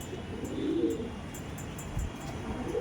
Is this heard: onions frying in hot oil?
no